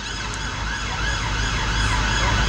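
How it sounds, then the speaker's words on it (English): A steady emergency siren wails in the distance, continuous and fairly loud against low traffic rumble, with no voices, at an outdoor Christmas market in Edinburgh. "I'll wait for the siren to stop"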